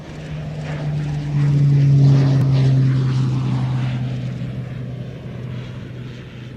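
A KC-10 aircraft passes overhead at the Royal International Air Tattoo airshow, its loud steady engine drone swelling to a peak and then slowly fading into the distance.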